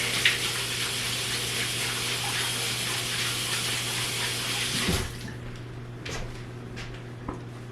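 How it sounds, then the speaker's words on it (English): Tap water runs steadily into a kitchen sink during handwashing, a continuous hiss that cuts off about two-thirds through, followed by a few small clinks and drips in a quieter room. "So now I'm gonna go wash my hands."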